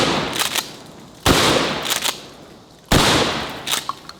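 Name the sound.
gun firing at melons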